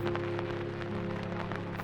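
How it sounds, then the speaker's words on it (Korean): Spring rain falls steadily outdoors at a peace park, a constant patter of drops over a low background hum. "반가운 봄비가 내리던 날이었습니다."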